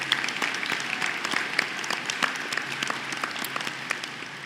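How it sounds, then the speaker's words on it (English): Steady applause of thanks from the audience at a SUNY Canton honors convocation, a sustained wash of many hands clapping at moderate volume in a large hall, with sharper individual claps standing out. "please join me in a round of applause of thanks"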